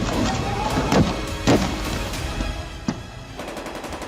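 Gunfire in news footage from Syria: a few sharp, separated shots crack out over a continuous rumbling background, fairly loud and close.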